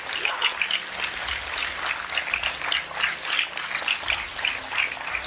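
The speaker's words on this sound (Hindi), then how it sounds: "तो हो जाए एक जोरदार तालियां आपके सेहत के नाम पे।" Loud, steady applause from a large audience at a health-plan seminar, dense clapping sustained across the whole stretch with no talk over it.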